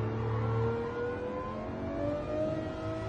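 A car engine in the Gran Turismo 7 racing game, muffled while the car drives through a tunnel, holds a steady, slowly rising drone at moderate level without speech.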